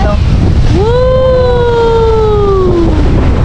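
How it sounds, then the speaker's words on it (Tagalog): Strong ocean waves wash in at Boracay beach as a loud, roaring surge mixed with heavy wind buffeting, while a voice rises in a long sliding shout over the noise. "Lakas kasi ng alon na yan, no?"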